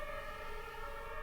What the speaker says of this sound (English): That's the ambulance.